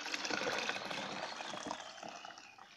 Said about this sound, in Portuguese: Vou despejar aqui dentro.